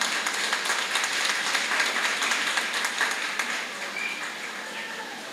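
A hall audience at an association's annual convention claps in a dense, sustained round of applause that tapers slightly toward the end.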